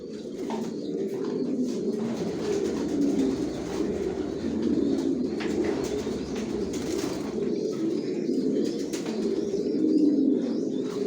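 Racer pigeons in a loft coo steadily in a low, soft murmur throughout, with faint chirps and small rustles mixed in and no talking.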